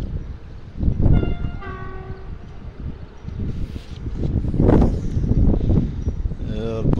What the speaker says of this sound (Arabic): قرب يدخل محطة بنكرير مع ستونس القادم من مراكش